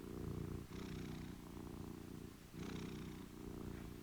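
A cat purrs close up in a low, continuous rumble that swells and eases with each breath, soft and with no other sounds around it.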